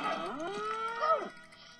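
A cow moos once in the video game Conker's Bad Fur Day, a loud, drawn-out bellow that bends in pitch over about a second and stands alone without talk.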